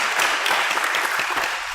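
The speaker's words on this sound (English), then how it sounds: "Big applause," A Sunday service congregation applauds in a steady, dense patter of hand claps, loud and close, with no talking over it.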